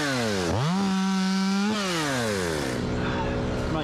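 An old Stihl chainsaw revs up and bogs down while cutting into rotten cottonwood during tree removal, loud and close with rising and falling engine pitch.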